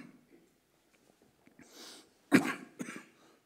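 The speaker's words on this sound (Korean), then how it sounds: "계속해서 이 기침이 멈추지 않아서 좀 제가 말씀 중에도 혹시 또 그럴까 싶습니다" A person coughs during a church worship service: a quiet stretch, then a hard cough burst followed by a second, smaller one, close and fairly loud.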